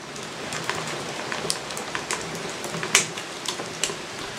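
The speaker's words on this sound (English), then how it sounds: "I know what I'm hearing is supposed to be like rain or something" Rain effect from the co-op puzzle game We Were Here, a steady fine patter with scattered sharp crinkly ticks and one louder crackle near the middle, sounding more like plastic crinkling than water; no one speaks.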